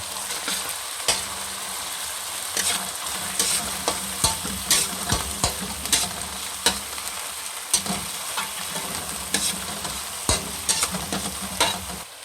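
Half-ground black pepper stirred into a hot sizzling pan while cooking beef ribs, a continuous frying hiss punctuated by repeated clacks and scrapes of a utensil against the pan at an irregular rhythm.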